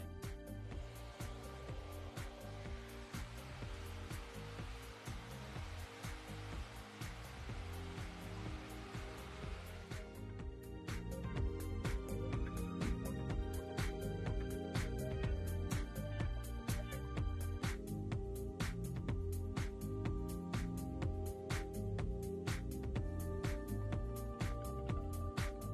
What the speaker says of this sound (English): When diffusing the hair, it's important to work with a slightly hotter setting and a slower speed.